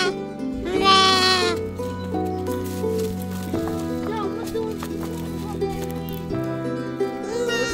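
Baby sheep bleat during a nomad family's migration in Iran, the lambs carried in satchels on donkeys; a loud cry rises early, followed by steady mixed animal and voice sounds with talking throughout.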